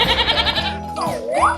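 A goat in a 3D animal video game gives a loud, wavering bleat, with a rising-and-falling electronic tone sweeping in near the end.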